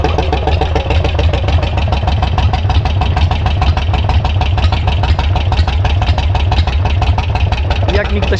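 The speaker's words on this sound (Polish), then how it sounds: "Sekwencja odpalania gaźnikowych motocykli." A carbureted motorcycle engine idles steadily and loudly up close, a lumpy, pulsing rumble that never lets up.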